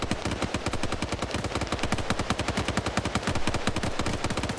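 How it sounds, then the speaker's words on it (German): Sustained automatic gunfire in Arma 3, a dense rapid stream of loud shots hammering continuously without pause, several weapons overlapping in a heavy firefight. "da werden ordentlich Munition hier reingeballert"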